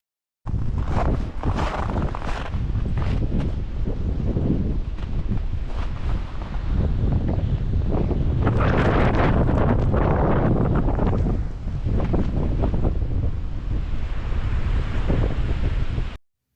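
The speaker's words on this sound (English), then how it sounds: "it was just really, really windy and cold" Strong, cold, gusting wind on a stormy day in Baxter State Park buffets the microphone in a loud, continuous roar with surging rises and dips, no voices present.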